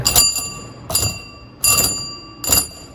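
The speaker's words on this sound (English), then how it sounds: "So you've got an old-fashioned doorbell." An old-fashioned reproduction doorbell on a community theatre stage set rings four times in evenly spaced, bright metallic strikes, each leaving a short ringing tail, heard close with no talking.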